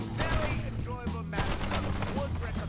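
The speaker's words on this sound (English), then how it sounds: "you can full sprint around the map while shooting and hip firing this shotgun" Rapid shotgun hip fire from an Akita in Black Ops 7 Zombies, loud dense bursts of blasts running continuously while the player sprints, with game effects and voice sounds mixed in.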